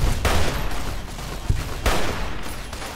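Liberty Prime, the giant robot in Fallout 3, firing, with heavy booming blasts and rumbling bursts that fill the whole clip, loud and close, with no talk.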